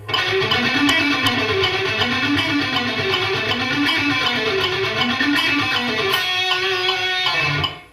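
Distorted electric guitar runs up and down a major scale several times in even, flowing phrases, played solo before fading out at the end.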